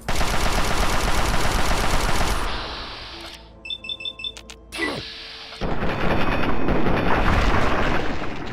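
Gunfire in the video game Fallout 3: dense rapid automatic bursts roar, drop into a brief lull of scattered metallic clicks and a sharp blast, then the heavy firing resumes loud and sustained.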